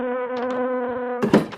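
Mosquitoes drone in the Minecraft modpack RLCraft, a close, steady, high-pitched buzzing whine that cuts off suddenly into a brief burst of clattering noise.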